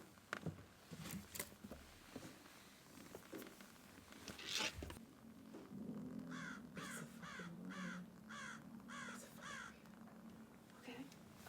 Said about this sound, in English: There's a fucking raven at my window, knocking